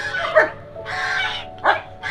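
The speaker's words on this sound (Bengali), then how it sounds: "এই যে জার্মান শেফার্ড" A German Shepherd at a dog house lets out loud, close barks in short bursts, mixed with whining yelps between them.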